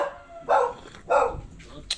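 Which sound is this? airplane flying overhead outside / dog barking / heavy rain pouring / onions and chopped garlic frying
dog barking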